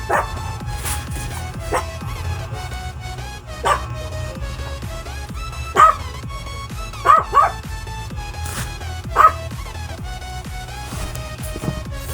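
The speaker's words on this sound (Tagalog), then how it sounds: "Parang may tumatahol na aso." A dog barks a few times at a distance, sharp yips spaced irregularly over a steady background hum, with no talking.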